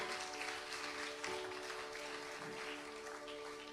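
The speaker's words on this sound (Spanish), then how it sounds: "Dale un aplauso fuerte al Señor." A church congregation applauds steadily at an evangelistic service, broadband clapping sustained throughout with organ or keyboard tones holding underneath and faint voices mixed in.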